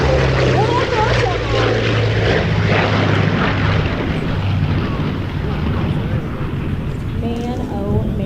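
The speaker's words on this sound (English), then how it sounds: "So here he is in the B-29 Superfortress." A B-29 Superfortress four-engine propeller bomber makes a steady, loud droning pass at an air show. Its engine roar holds throughout while someone talks over it.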